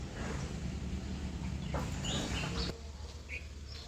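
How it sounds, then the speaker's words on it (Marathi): A few faint, short bird chirps rise over a steady low outdoor rumble, scattered and distant, in quiet countryside around a temple. "पक्ष्यांचा आवाज कानी घुमतोय"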